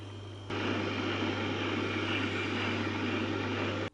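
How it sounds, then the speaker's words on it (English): The honing wheel of a Tormek T-4 sharpener spinning, a steady whirring motor drone with a low hum that starts abruptly, holds evenly for a few seconds, then cuts off. "Now I'm just going to put it on the honing wheel."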